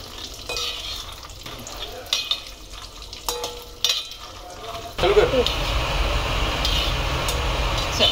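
Peanuts frying in oil in a pan for poha chivda, first with sparse stirring clinks and scrapes under talk, then a loud, dense, continuous sizzle as the peanuts go into the oil.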